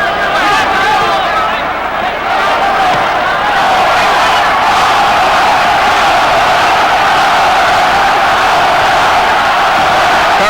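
A hometown crowd at a boxing match in the Will Rogers Coliseum chants for boxer Donald Curry, a dense, loud, sustained roar of voices in the arena beneath a commentator talking.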